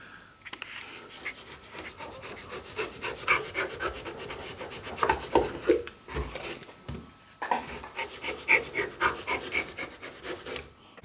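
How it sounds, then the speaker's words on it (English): Excess dried expanding foam insulation is trimmed on a teardrop trailer build. The close, rasping cuts and rubbing strokes come in uneven bursts, with brief pauses between the passes. "So now the expanding foam is all dried, all we've got to do is just trim off all the excess."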